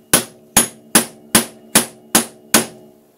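Seven sharp, evenly spaced hammer blows ring out on metal while working on a motorcycle steering bearing, each strike loud and close with a short metallic ring decaying before the next.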